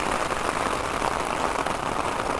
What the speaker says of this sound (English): Nice sound of the rain,